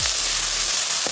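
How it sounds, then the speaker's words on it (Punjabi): Onion and masala tadka sizzling in a hot pan with green chilli and ginger, a loud continuous crackling fry that holds steady, with a faint clink near the end and no voices. "ਮਸਾਲਾ ਤੜਕਾ ਆਪਣਾ ਇੰਨਾ ਭੁੱਜ ਗਿਆ"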